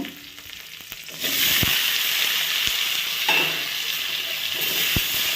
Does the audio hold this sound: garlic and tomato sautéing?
yes